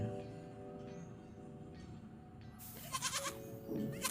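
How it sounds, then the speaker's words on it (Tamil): A goat gives a short, wavering bleat near the end, after a stretch of quiet low background. "ஆடு"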